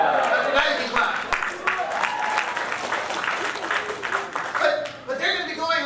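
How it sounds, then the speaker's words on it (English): A church congregation breaks into sustained applause after a mission team is announced, dense clapping that fills the hall and tapers near the end, with voices talking over it. "Now you can clap."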